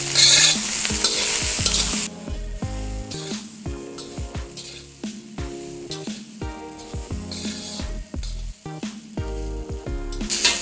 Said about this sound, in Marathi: यामध्ये टाकायचे आपल्याला आता हे नूडल्स. मिक्स करायचं.